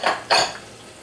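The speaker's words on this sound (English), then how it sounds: "And add in all my vegetables." Two kinds of chopped peppers tumble into a cooking pan with other vegetables, making two quick scraping clatters of food and utensil on metal. The sound is close and brief, with no voices.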